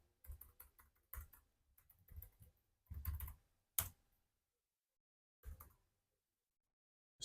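Someone types on a computer keyboard in short, separate bursts of soft clicking with pauses between them, close and quiet.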